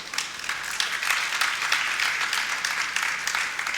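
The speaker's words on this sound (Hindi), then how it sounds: "अब तो बजाओ तालियां" An audience at a Jain religious discourse claps steadily, a moderately loud, even stretch of applause with no speech over it.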